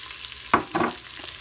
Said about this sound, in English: I'm sauteing the bacon.